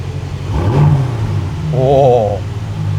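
An Aston Martin DB12 V8 engine revs twice through its exhaust, each blip rising and falling in pitch over a deep rumbling idle, loud and close.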